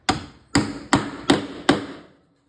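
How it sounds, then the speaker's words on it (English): Five sharp hammer taps drive small spikes into an arcade control panel, evenly spaced and close, each strike ringing briefly before the next. "Now I gotta go grab a hammer."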